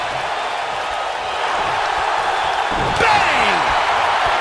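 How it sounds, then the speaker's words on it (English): A wrestler slams onto the ring mat from a vertical suplex in a women's NXT TakeOver match, a sharp impact landing in the second half over steady arena crowd noise. "what a vertical suplex."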